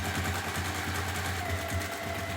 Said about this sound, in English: So for those of you who haven't tried sewing with cork yet, it sews like butter.